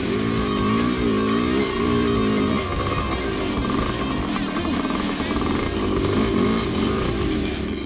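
Dirt bike engine revving hard while climbing across a giant rock plateau in Sri Lanka, a loud, steady buzzing drone with shifting pitch throughout, close and continuous with no speech.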